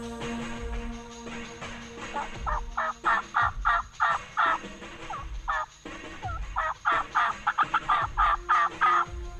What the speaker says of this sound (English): Well, we finally got a bird to gobble.